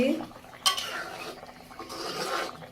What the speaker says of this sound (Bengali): আমি আর একটু নেড়ে দিচ্ছি